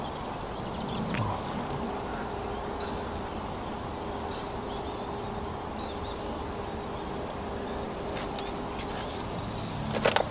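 Birds chirping outdoors near an airport, a series of short, high calls that repeat at intervals over a steady low rumble of background noise, moderately distant.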